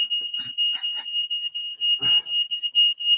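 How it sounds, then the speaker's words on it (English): A fire alarm beeps in a steady, continuous high tone throughout, loud and close, with a few brief clatters and a muffled thump partway through. "oh, and that's the fire alarm."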